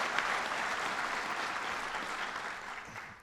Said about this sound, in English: Senator Michael Ransenhofer, you can applaud.